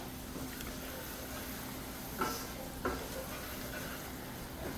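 Spices being stirred into frying shrimp and fenugreek curry in a pan, with a quiet steady sizzle and two brief spoon scrapes, fairly faint.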